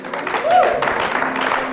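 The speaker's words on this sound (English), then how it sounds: "your clap is very civil" Wedding guests clap politely and steadily for the newly married couple, a moderate ripple of applause under a voice speaking over it.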